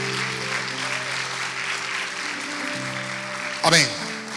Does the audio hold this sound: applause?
yes